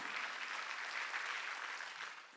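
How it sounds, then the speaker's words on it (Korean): A church congregation at a Sunday worship service applauds together, a dense, steady wash of clapping that holds evenly throughout and tapers slightly at the end. "박수로 하나님께 영광을 돌려야 된다는 거예요"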